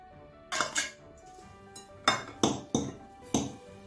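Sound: fork mashing tuna and eggs in bowl

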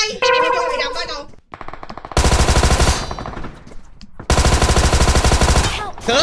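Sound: gunfire in video game PUBG Mobile

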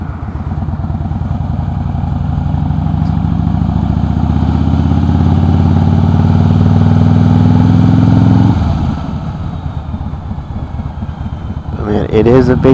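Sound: 2008 Harley Davidson Crossbones motorcycle engine with Prism Tube exhaust

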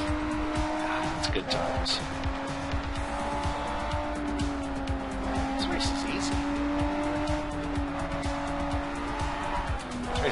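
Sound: car racing in video game Sleeping Dogs

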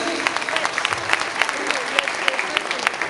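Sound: applause for the children at a circumcision celebration

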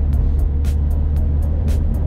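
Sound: Mercedes-Benz cabriolet car driving on bumpy road

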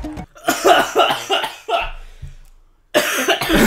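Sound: coughing

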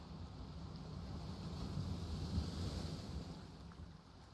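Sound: waterfall ambience in video game Shallow Sea Roaming

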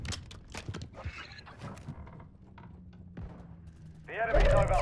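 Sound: magazine being changed on a gun in Call of Duty Modern Warfare III video game

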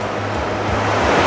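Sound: waves on a long resort beach

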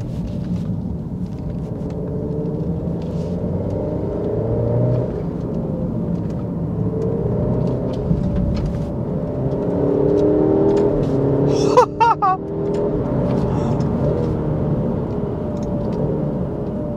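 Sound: sports car engine revving with gear shifts

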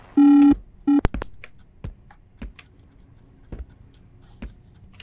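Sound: telephone off-hook tone

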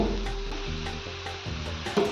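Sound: besan chila (gram flour pancakes) frying in a pan

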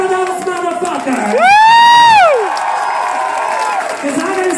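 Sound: audience applause and cheering

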